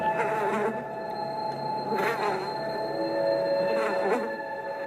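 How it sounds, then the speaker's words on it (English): Flies swarming inside a house, a steady close buzzing drone of many insects with a few louder passes, continuous for several seconds with no talk. "there are flies swarming all over their house"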